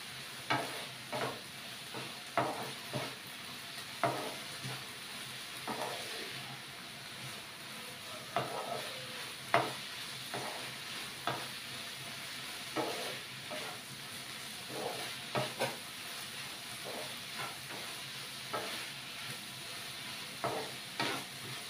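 Prawn chili fry with chili powder and turmeric being stirred in a hot pan, a soft continuous sizzle broken by repeated scraping strokes of a spoon at an irregular rhythm, close and fairly quiet.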